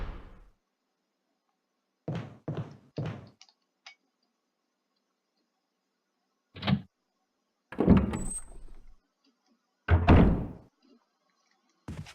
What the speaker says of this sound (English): I need to go this way, through the double doors.